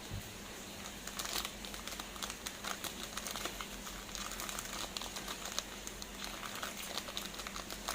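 A biscuit packet is opened: soft, close crinkling and rustling of the wrapper over a steady low hum, fairly quiet, with no voices.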